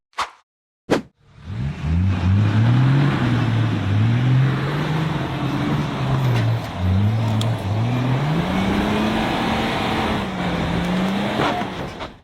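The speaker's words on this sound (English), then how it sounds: "The mud-covered buggy revved hard as it crawled through a narrow trench between steep dirt walls." A mud-covered off-road buggy's engine revs hard and continuously as it crawls through a narrow trench between steep dirt walls, the pitch rising and falling in repeated surges after a couple of brief knocks at the start.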